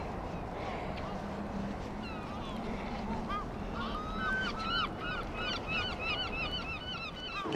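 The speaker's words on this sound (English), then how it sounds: "At this end of the marina, there's always swans." Swans gather at the end of a marina, giving repeated honking and chirping calls that grow busier toward the end over a low steady background rumble.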